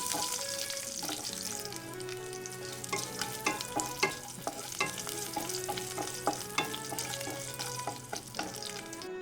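Cumin, two dried red chillies and four garlic cloves temper in hot oil, a dense crackling sizzle throughout with repeated spatula taps and scrapes against the pan, steady and fairly close.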